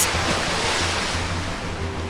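Waves slap and wash against the hull of a ship in a steady, loud surge of water with continuous roar and no voices.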